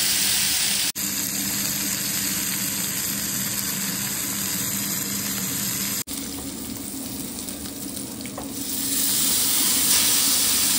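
Masala frying in a hot pan, a steady loud sizzle and hiss that continues throughout, briefly interrupted twice, with the sound brightening toward the end.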